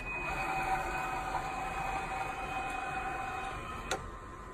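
A car's steering wheel retracting when autonomous driving mode is engaged gives a steady, faint electric motor whir with a thin high tone, running evenly for several seconds and ending in a soft click.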